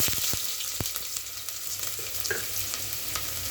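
Onions frying in a pan at the start of an okra curry, a soft continuous sizzle with a few sharp clinks and scrapes of stirring, fairly quiet and with no talk.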